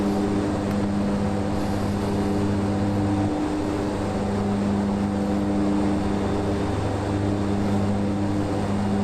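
Twin Otter turboprop engines climbing out from Lukla toward Kathmandu in a flight simulator, a loud, steady droning hum with strong tonal whine, unbroken throughout.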